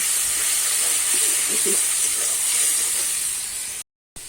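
Spices sizzle in a pan with salt, turmeric and a splash of water, giving a steady bright hiss. It holds for several seconds and cuts off abruptly near the end.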